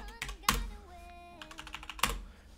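Terminal command keys clatter on a computer keyboard on Linux, with two louder strikes that sound like Enter or space and a few quick taps between, close and clear with no talk.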